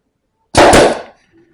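A nail gun fires one sharp, loud pneumatic bang while wedding decorations are being built, followed by a brief decay and a faint low sound afterward.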